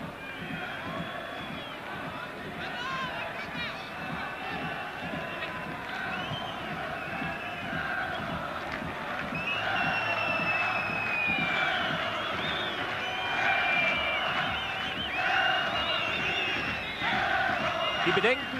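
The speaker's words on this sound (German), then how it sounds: "Jubelgesänge im Block der türkischen Anhänger." Turkish supporters in a stadium block chant and cheer at an East Germany versus Turkey football match, a dense, steady crowd roar with sung voices rising and swelling throughout, distant and continuous.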